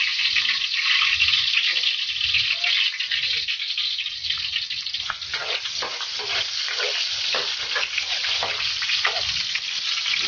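Garlic and onions frying in oil for chicken adobo with potatoes, a steady close sizzle with soft stirring scrapes throughout and no talking.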